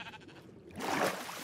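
A sheep in the Minecraft video game bleats once, a short clear bleat that rises after a quieter moment of faint background sound.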